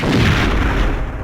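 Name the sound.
destroying special pillar, Perfect Dark video game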